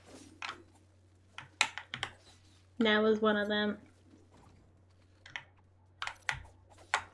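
Computer keyboard keys are struck during a game of Boomerang Fu, giving scattered, quiet, sharp clicks spread across several seconds, broken by a brief spoken phrase.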